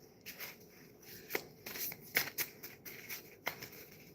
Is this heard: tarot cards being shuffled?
yes